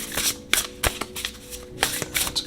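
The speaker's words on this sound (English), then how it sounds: "Let's go ahead and shuffle." Shuffling a Sacred Forest Oracle card deck by Dennis Lin, close-up riffling bursts of cards in quick uneven strokes, several separate swishes with brief pauses between them.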